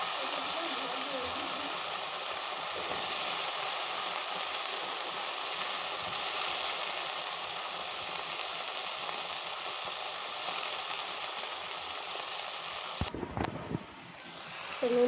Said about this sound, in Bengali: এবার দিয়ে দিচ্ছি ডাঁটা আলু, বেগুন একসাথে ভাজা ভাজা হবে